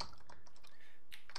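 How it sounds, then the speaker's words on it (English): Rapid keystrokes on a computer keyboard clatter close by in a quick burst of irregular clicks, quiet and free of talk. "I'm just typing"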